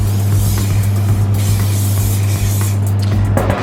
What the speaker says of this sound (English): To line the loaf tin, I've got some non-stick spray.